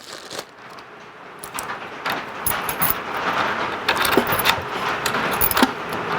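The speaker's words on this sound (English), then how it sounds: "we're going to test the keys out, make sure that the keys work" Metal keys jangle and rattle while being tried in an electronic keypad and fingerprint deadbolt door lock, producing a close, busy series of clicks and scrapes that grows louder toward the end.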